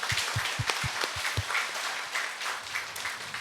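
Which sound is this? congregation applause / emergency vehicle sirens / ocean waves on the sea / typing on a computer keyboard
congregation applause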